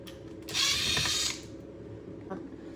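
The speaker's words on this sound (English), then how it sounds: "we want to take out the joystick now by removing these screws right here" A power screwdriver or ratchet whirs for under a second as screws are backed out to remove the joystick from an Arcade1up Partycade cabinet, followed by quieter mechanical clicks and handling.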